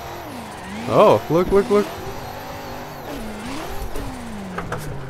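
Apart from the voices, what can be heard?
BMW E92 car engine revving while drifting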